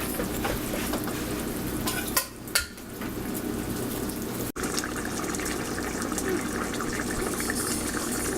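Mutton stock, 2.5 cups of it, poured into a pot for Madurai-style mutton biryani, giving a steady liquid rush with a few brief splashy bumps and a sharp knock midway.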